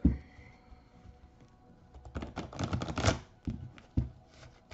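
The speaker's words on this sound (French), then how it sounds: "Allez, je mélange un peu." Tarot cards are shuffled by hand in a quiet room, with a soft riffle at first, then a dense crackling run of card flicks and a few sharp taps, close and alone.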